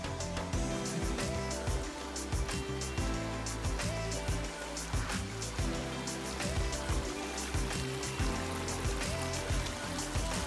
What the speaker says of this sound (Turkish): En alt durumda şelaleler.